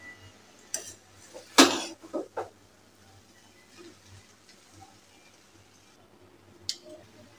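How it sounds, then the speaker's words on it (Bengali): A utensil stirs egg into noodles in a pan, giving a few sharp clinks and scrapes against the metal, one louder clatter and softer moist stirring in between, fairly close and otherwise quiet. "এখন ভালোভাবে মিশিয়ে নেব।"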